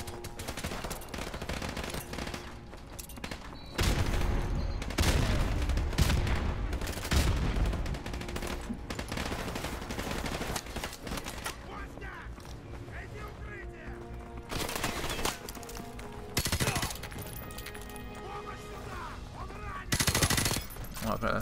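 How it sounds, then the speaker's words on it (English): Dense machine-gun fire, rifle shots and explosions from the Modern Warfare Remastered campaign on PlayStation 4 rattle almost continuously, with louder blasts breaking through and voices talking over the battle. "This is like explosion madness in here."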